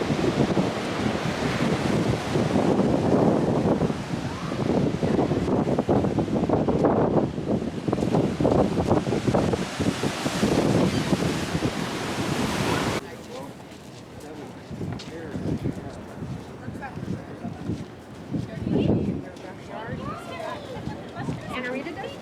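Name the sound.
ocean waves crashing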